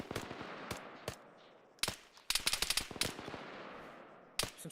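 Gunfire suppressing bunkers in the Arma 3 video game: sharp, distant single shots and short rattling bursts crack irregularly across a quiet battlefield.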